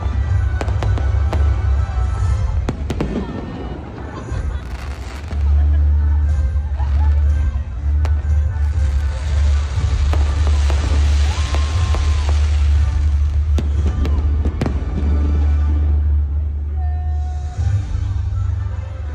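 Fireworks display at BGC with a crowd, continuous loud booms and crackles blended with a steady hum of crowd chatter and some nearby voices.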